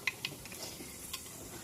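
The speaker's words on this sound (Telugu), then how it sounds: "పోపు చేసుకోవాలి." Urad dal and mustard seeds temper in hot oil for a mustard-leaf chutney, giving a quiet steady sizzle with a few sharp pops and small clinks, alone and faint.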